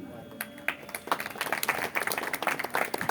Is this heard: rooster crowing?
no